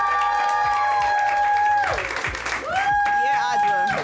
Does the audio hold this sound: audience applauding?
yes